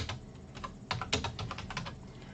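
Keys clatter in a steady run of quick typing on a computer keyboard, close and fairly quiet over a soft room hum, with no speech.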